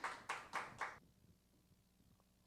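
A congregation at a high school Sunday church service applauds, about four quick, faint, evenly spaced claps, then near silence.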